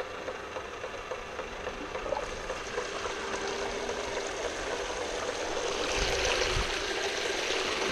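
Water trickles and streams into a bucket in a steady, close, continuous flow with a faint mechanical hum underneath, growing slightly louder toward the end.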